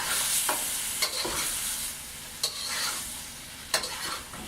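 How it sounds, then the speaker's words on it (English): A spoon stirs shrimp and eggplant in a pot over a steady background sizzle, with three sharp scraping strokes spaced about a second apart, close and clear with no talking. "Now I'm going to add my shrimp and eggplant back into the pot here. And give that a quick stir."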